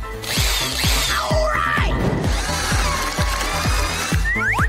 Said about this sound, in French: Maintenant, je vais découper le trou. Je vais le faire avec une perceuse.